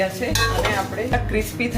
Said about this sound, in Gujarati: ખાસ કરીને સારી રીતે હલાવવાનું છે, જેનાથી મમરા થોડા ક્રિસ્પી થશે